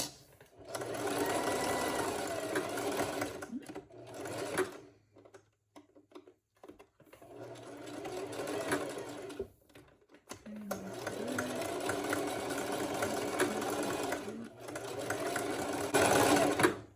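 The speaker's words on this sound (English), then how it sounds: "So zigzag stitch, and I'm gonna back stitch this a couple of times." A sewing machine runs a zigzag back stitch along a wig, steady rapid mechanical whirring in long bursts with a brief quiet pause midway, close and clear.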